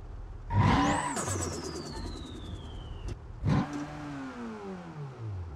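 A turbocharged engine in a BeamNG car, likely a Supra or tuned Swift, revving hard twice: rising whine with turbo whistle, a shift drop, then a second surge that fades, loud and alone.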